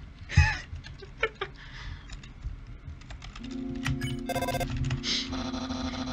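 A phone rings in the video game Undertale: after a few soft clicks and taps, a steady electronic trilling ring tone starts partway through and carries on to the end, with no talking.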